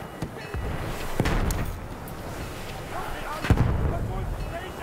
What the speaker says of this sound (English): Bomba fırlatıyorum.